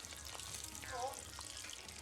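Food deep frying in hot oil gives a steady, faint sizzle and crackle throughout, with a soft continuous hiss and no clear voices over it.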